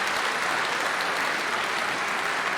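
A large audience keeps up a continuous, even wash of loud applause throughout, with no gaps.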